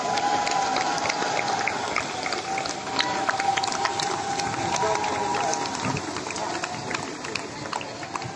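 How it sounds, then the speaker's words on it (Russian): A crowd in the square by the Bolshoi Theatre of Belarus claps steadily for a runner carrying the European Games torch relay flame, a dense, continuous patter that stays fairly loud throughout under a voice speaking over it. "Давайте поддержим ее аплодисментами."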